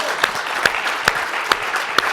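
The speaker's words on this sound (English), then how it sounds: "Round of applause really quick." Sparse audience applause at an insurance sales conference, with a few distinct claps standing out at a steady pace over a low murmur of room noise.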